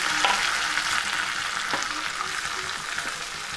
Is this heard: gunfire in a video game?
no